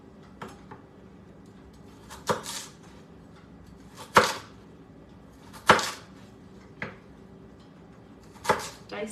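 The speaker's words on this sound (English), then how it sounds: "we're just chopping our sweet potato," A knife chops through sweet potato on a cutting board in irregular, crisp strikes, about ten cuts spaced apart, close and clear.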